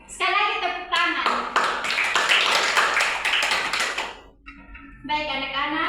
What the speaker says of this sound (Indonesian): Jadi sekali lagi tepuk tangan.